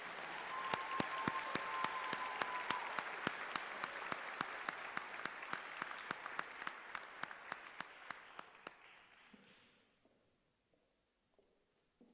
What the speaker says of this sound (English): Let's have a round of applause for all of our doctoral candidates.